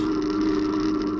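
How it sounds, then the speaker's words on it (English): A Calbury Kinetic e-bike rolls along a road, its tyre roar and motor whir blending into one continuous, close, even drone with no talking. "it's picking up on the noise of the tyres on the road and the e-bike motor"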